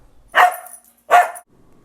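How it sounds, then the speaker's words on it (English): A dog barks twice, close and fairly loud, two short sharp woofs spaced under a second apart against near silence. "this is our dog"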